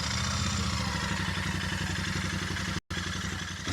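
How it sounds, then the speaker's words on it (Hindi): A Royal Enfield Super Meteor 650 motorcycle idles steadily, its exhaust giving a deep, even, thumping note, close and loud, with a brief cut near the end. "एग्जॉस्ट नोट साउंड कैसे करता है वो मैं आपको सुनाता हूँ।"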